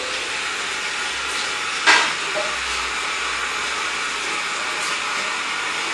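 Steady hissing water spray rinsing a car's interior scuff plates, a continuous even wash at close range with one brief louder splash partway through.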